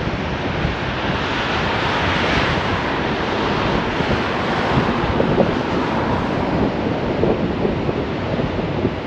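Surf rolls onto Tynemouth Beach in a continuous, loud wash, heavily buffeted by wind across the microphone, with no clear voices over the roar.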